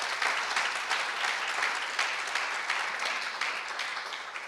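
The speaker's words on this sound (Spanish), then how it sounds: "Denle un aplauso a Jesús por lo que Él hizo." A church congregation claps together in a steady, even burst of applause that holds at a moderate level throughout, with no talk over it.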